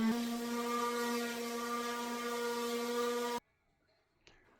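A power sander whines with a steady droning hum for several seconds sanding pallet wood, then cuts off abruptly, leaving near silence and a faint knock.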